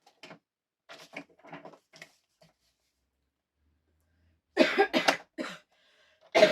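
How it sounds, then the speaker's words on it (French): A girl coughing indoors: a few faint, soft coughs early on, then a louder, close burst of several harsh coughs in quick succession, with one more cough at the end. "Ça, c'est ma fille qui tousse."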